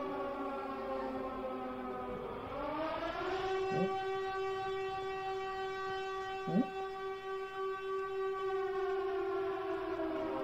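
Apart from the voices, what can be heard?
siren wailing in a video game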